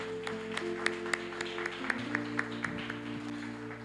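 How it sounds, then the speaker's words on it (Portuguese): A church congregation at an evening Assembly of God celebration service claps softly in a sparse, roughly regular rhythm, heard faintly over sustained tones from instruments or a hum. "Dê uma salva de palmas ao Senhor nesta noite"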